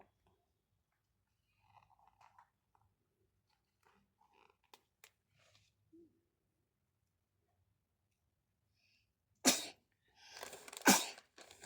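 After a stretch of faint clicks and shuffling, a sharp sneeze bursts out, followed a second later by another sneeze or cough, fairly close.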